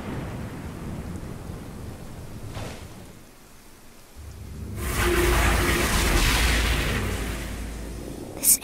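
A thunderstorm around a boat in the game Rite of Passage, a low rumbling wash of rain and wind that swells into a loud, sustained roar of thunder toward the end.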